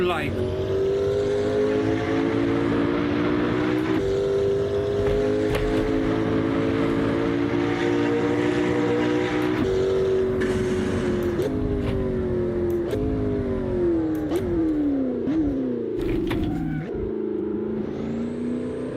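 A race car engine in the Assetto Corsa driving game, heard loud and continuous, with its pitch climbing and falling through gear changes and dropping sharply when the throttle lifts near the end.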